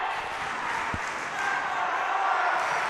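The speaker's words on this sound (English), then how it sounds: "this Torrance home crowd is electric. You can hear it on the field mic in the broadcast." Home crowd at a Torrance high school volleyball final, CIF Southern Section Division 5, a steady broad roar of cheering and applause from the stands, loud and continuous with a brief thump partway through.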